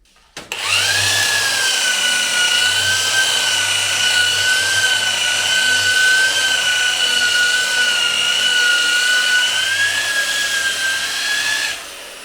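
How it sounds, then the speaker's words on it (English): A polishing mop buffs the roller-painted finish of a Volkswagen Golf Cabriolet with a loud, steady whirring whine that spins up at the start and winds down near the end, with no talking. "it's going to need another pass with the polishing mop"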